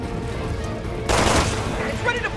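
Gunfire in the PS3 game Resident Evil 6, a sudden burst of loud, rapid shots cutting over a constant rumbling in-game background, with a few fainter trailing sounds after.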